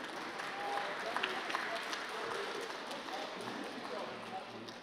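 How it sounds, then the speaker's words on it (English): Applause from an audience at a university film and TV awards ceremony as an award presenter is welcomed, a steady broadband clatter of clapping with voices mixed in throughout. "Round of applause for Roy, please."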